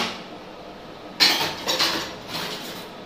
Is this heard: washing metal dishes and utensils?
yes